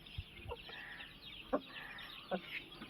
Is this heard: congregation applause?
no